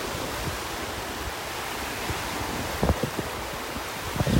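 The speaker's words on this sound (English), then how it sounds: "Nice little waves breaking out here." Small ocean waves break over a sandbar at a North Naples, Florida beach as the tide washes across, a steady broadband wash with a few soft nearer splashes toward the end, no voices.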